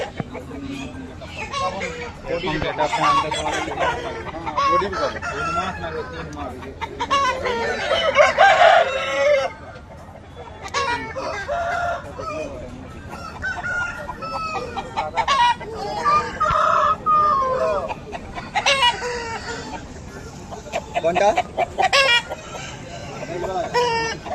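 Chickens and roosters at a rural poultry market cluck and crow repeatedly among the bustle, with people talking throughout.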